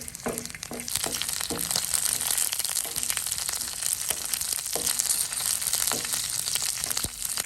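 Green chillies and about fifteen garlic cloves fry in a spoonful of coconut oil on a tawa. A steady close sizzle runs under repeated crisp clinks and scrapes from stirring, with no talking.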